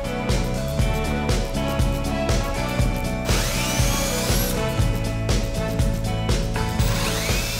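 A power drill whirs in repeated bursts, starting and stopping several times as it bores holes into wooden stakes, with loud close mechanical whine throughout.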